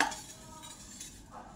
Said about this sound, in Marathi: बघा, हे पातेलं घेतलं मी.